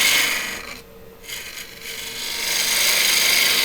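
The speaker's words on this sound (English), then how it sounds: "see how beautifully how it scrapes the wood there" A wood-turning tool scrapes a wooden bowl spinning on a lathe, a loud, continuous hissing rasp that briefly drops away and then returns to full strength.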